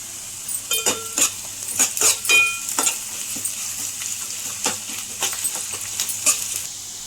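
Ginger garlic paste frying in a pan, with a steady sizzle under repeated clinks and scrapes of a spoon stirring against the metal, close and fairly loud.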